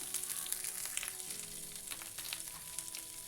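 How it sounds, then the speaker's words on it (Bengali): Mustard seeds, curry leaves and chopped beans sizzle steadily in hot oil in a pan, a continuous bright crackle with faint pops throughout, at moderate volume and with no voices. "এখানে সর্ষে দিয়ে দিলাম কারি পাতা দিলাম এখানে বিনস দিলাম"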